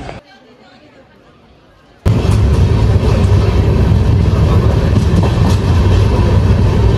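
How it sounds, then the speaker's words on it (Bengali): A train passes through Siliguri in North Bengal, its loud rumbling roar bursting in suddenly after a quiet start and holding steady with faint rhythmic clatter. "এই ট্রেনটা শিলিগুড়ির ওপর দিয়ে যায়"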